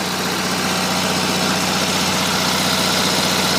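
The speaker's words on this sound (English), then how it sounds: "The engine sounds really smooth at this speed." A small Onan propane generator engine runs steadily and loudly nearby, a smooth, even droning hum with no change in speed.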